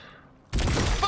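A sudden loud burst of gunfire-like blast from the glob shot of a talking alien gun in the video game High On Life, following a quiet lead-in, then a dense sustained roar with crackling debris to the end.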